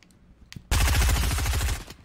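Video game gunfire: a loud, sustained burst of rapid automatic shots lasting about a second, preceded by a couple of faint single pops, then cutting off.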